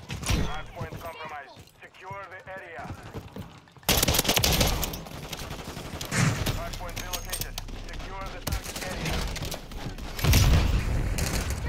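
Gunfire from the shooter video game Call of Duty MWIII, loud rapid shots after a few seconds that continue in bursts under game sound and a talking voice.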